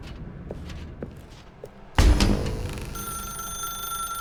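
A telephone rings in the video game The Stanley Parable. A few soft thumps come first, then a sudden loud ringing tone rises and sustains as a bright, steady trill.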